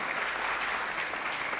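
Audience applause at an award results announcement during a corporate CSR fair in Poland: steady, dense clapping from a crowd throughout, close and even, with no talk over it.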